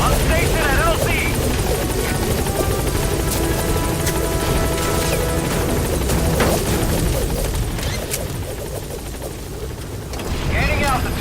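A combat helicopter in Metal Gear Solid V: The Phantom Pain, heavy rotor thrum and droning engine held loud and constant, dipping briefly before returning, with game dialogue and scattered impacts mixed in.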